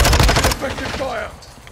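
Mortar fire in Call of Duty Modern Warfare II, a rapid burst of heavy blasts and crackling impacts up close that trails off into rumbling debris after about half a second.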